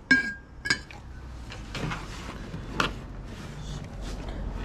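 A lidded glass candy dish being handled, with several sharp glass clinks and taps near the start and more scattered light clinks and knocks after that.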